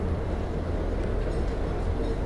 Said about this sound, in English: there's an N train going to Manhattan